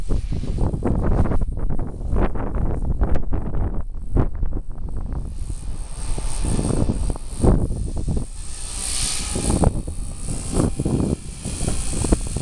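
A 4F200 RC helicopter flies in strong gusty wind, its rotor drone steady and close throughout while wind buffets the microphone in rough bursts.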